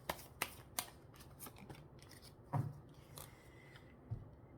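A tarot card drawn from a deck for an advice reading, heard as soft, sharp flicks and a few light taps, close and quiet, with no talking.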